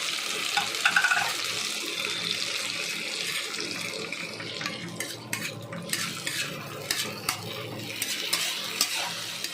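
Ginger garlic paste fries in a pan with chopped onion and whole spices, sizzling softly under repeated scraping and clinking of a stirring spoon, close and moderately quiet, with no voices.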